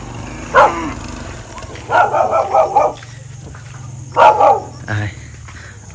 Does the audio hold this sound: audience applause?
no